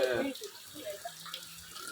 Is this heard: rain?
yes